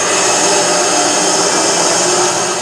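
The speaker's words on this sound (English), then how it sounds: "Is that a chainsaw?" A loud, continuous, harsh mechanical roar of a chainsaw in the Alan Wake video game, steady and unbroken with no talking.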